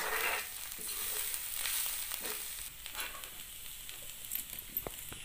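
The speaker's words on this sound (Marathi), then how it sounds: "कोबरा घातल्यानंतर आपल्याला भाजी पूर्ण एक अशी एकजीव करून घ्यायची आहे" Pevga wild greens with coconut are stirred in a frying pan, a steady hiss and sizzle with occasional scraping clicks of the spoon, close and continuous with no talk.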